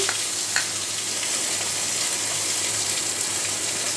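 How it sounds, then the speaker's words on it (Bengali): Green chili paste and ginger paste frying in oil, a continuous close sizzle with a few brief sputters near the start and a low steady hum beneath. "এবারে তেলে দিয়ে দিচ্ছি 1 চামচ কাঁচামরিচ বাটা, 1 চামচ আদা বাটা"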